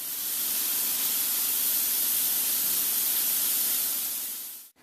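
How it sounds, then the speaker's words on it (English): Turbo bed liner sprays in a collision center shop with the fan running, a loud, steady hissing rush that holds evenly for several seconds before cutting off abruptly. "I'll spray one with the fan running."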